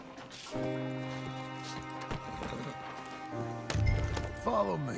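Horse hooves clip-clopping in Red Dead Redemption 2, a steady rhythmic trot close by, set under a droning musical score with a brief whinny near the end.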